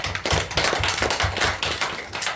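A church congregation claps together during a Sunday morning worship service, a brisk rhythmic run of close, sharp handclaps keeping a steady beat for a couple of seconds.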